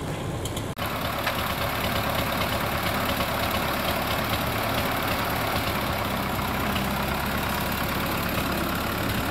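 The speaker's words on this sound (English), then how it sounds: "he's going to hit it again with a tractor" A tractor engine idles steadily throughout a mobile home demolition, a continuous loud rumble following a brief sharp knock at the start.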